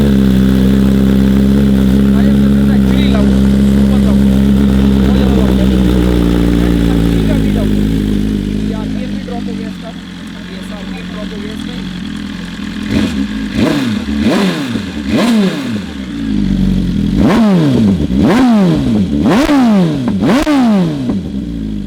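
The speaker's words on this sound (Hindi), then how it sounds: "इसकी आवाज़ सुना दो प्लीज़ एक बार। ऑस्टन रेसिंग फुल सिस्टम लगा हुआ है, डी कैट ओके" A BMW S1000RR sport bike fitted with an Austin Racing full exhaust system and de-cat pipe idles loudly at first, then is blipped in a series of sharp, rising and falling revs, very loud and close, with some talk in the background.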